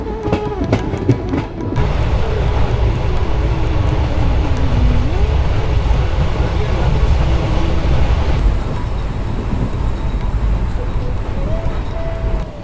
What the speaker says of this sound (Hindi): क्रॉसिंग के बाद एक बार फिर से हमारी ट्रेन निकल चुकी है